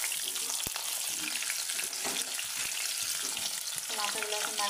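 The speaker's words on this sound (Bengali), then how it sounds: "ভালো করে ভেজে নিতে হবে মাথাগুলো" Fish heads fry in a pan with a dense, steady sizzle that runs loud and close the whole time, crackling without a break.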